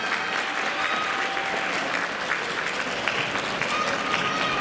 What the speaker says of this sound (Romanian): Aplauze pentru aceste frumoase domnișoare, le merită din plin.